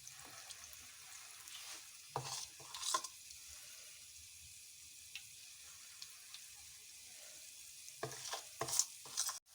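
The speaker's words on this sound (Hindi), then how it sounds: "अब हम भल्ले फ्राई कर लेंगे" Bhalle, lentil fritters, frying in hot oil, heard as a faint, uneven sizzle and bubbling with occasional louder spatters and soft utensil clinks.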